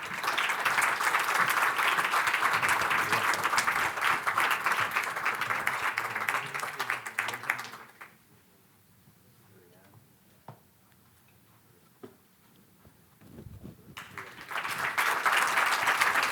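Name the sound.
audience applause at an awards ceremony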